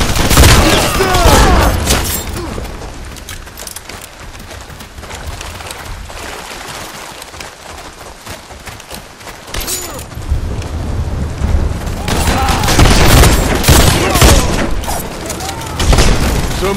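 Automatic gunfire and heavy booms ring out in a PC shooter based on The Expendables 2. Loud bursts open the firefight, it eases into scattered shots and rumble, then dense volleys return, with occasional shouting voices mixed in.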